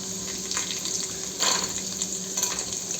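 Green chilies and peanuts frying in a pan give a steady, close hiss of oil with a few louder crackling bursts as the pan is stirred.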